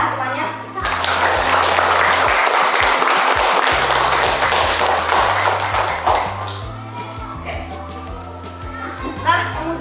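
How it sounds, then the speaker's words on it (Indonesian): Third-grade children in a primary school maths class clap for a classmate. Brisk, uneven clapping rises early and tapers off, with talking, a little laughter and light taps and thumps mixed in, followed by a teacher's voice. "silakan beri tepuk tangan temannya."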